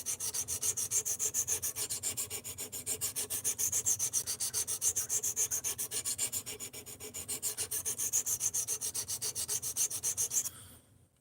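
A knife blade stroked rhythmically across a sharpening stone, raising a burr, a fast regular series of gritty scraping passes at close range with no talk, stopping near the end.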